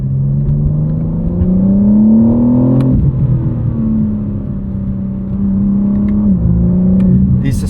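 A 2025 BMW M4 CS, lightweight G82, pulls hard under acceleration, its engine droning and rising in pitch, dropping at a gear change, then climbing again, loud and steady from inside the car.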